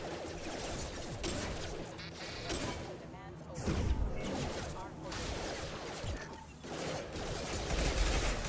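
Dense gunfire in a Mass Effect 2 firefight, with sustained bursts of shots, crashes and impacts packed together, loud and close throughout, overlapping a voice.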